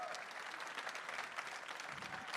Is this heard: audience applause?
yes